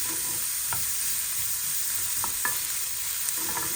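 Onions frying in a pan, softening and starting to brown: a continuous bright, hissing sizzle holds steady throughout, with a few faint stirring clicks and no talking.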